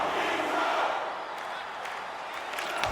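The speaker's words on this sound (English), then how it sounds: "You can feel the energy in this crowd." Arena crowd at a Devils vs Kings hockey game sends up a steady, dense roar of voices that fills the space, with a few sharper shouts rising near the end.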